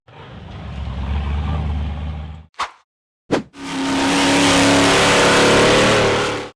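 A blue off-road buggy's engine revs hard as it charges up a rocky dirt hill, with a loud sustained roar, a brief cut and two sharp bursts, then another long, strained rev at full throttle.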